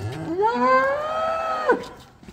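A single loud cow moo, close by, rising and holding for over a second before cutting off.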